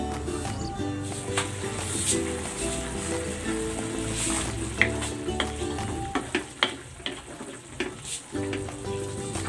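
Chicken simmering in a covered pan for a Bicol dish, a steady bubbling sizzle throughout, with a few clinks and lid knocks near the end.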